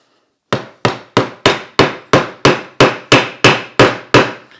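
Hammer blows driving wooden Moxon bench vise parts together for a snug fit, about a dozen sharp, loud, evenly spaced strikes close by, each ringing briefly before the next.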